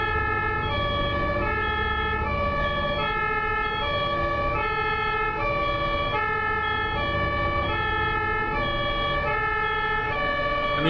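An ambulance siren wails through German traffic, its two-tone pattern alternating steadily and loud over a constant rumble of road vehicles, with no talk.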